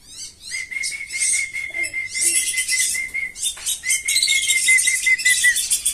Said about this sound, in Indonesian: Nih burung belibis saya ini, saya panggil teman-temannya